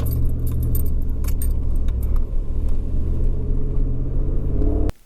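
A truck fitted with a Carven Competitor Series exhaust and a K&N cold air intake gives a deep, loud, steady engine rumble from inside the cab, with keys jangling throughout before the sound cuts off abruptly near the end.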